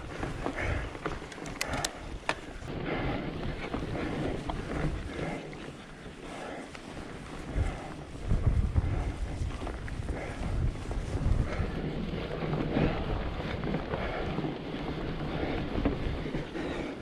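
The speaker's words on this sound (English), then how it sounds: "how windy it is up above the canyon" Winter wind rushes above Devil's Canyon, a steady low roar with gusty buffeting across the microphone, fairly faint and unbroken, with a few sharp knocks early on.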